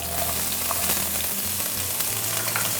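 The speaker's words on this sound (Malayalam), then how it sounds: "കടുക് പൊട്ടി വരുമ്പോൾ വെളുത്തുള്ളി ഇട്ട് കൊടുക്കുക" Garlic and ginger sizzle in hot oil with popping mustard seeds while a duck roast is being started, a steady close frying hiss with small crackles and no talk.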